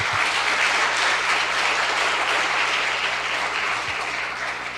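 A church congregation claps and cheers for the choir, a dense, loud, sustained wash of applause that eases slightly toward the end.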